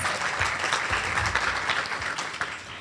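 Audience applause for a panelist at a Tiger Bay forum on the minimum wage, a moderate crowd clapping steadily at close range, with a few low thumps and a faint murmur of voices beneath.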